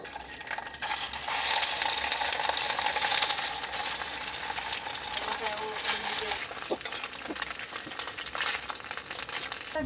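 Food bubbling and sizzling in a pot over a camp stove at a campsite, a steady broadband hiss with crackles running throughout, with people talking nearby.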